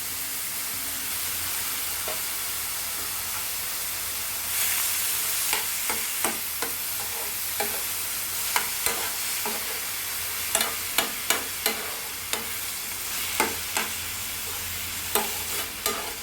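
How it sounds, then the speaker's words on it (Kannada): One large tomato, salted, fries in a pan with a steady sizzle that swells partway through. Repeated sharp scrapes and taps from stirring come in a loose rhythm, close and moderately quiet, with no voices. "ಈ ಟೊಮೊಟೊ ಸ್ಮ್ಯಾಶ್ ಆಗುವಷ್ಟು, ತುಂಬ ಕರಗುವಷ್ಟು ಚೆನ್ನಾಗಿ ಫ್ರೈ ಆಗಬೇಕು"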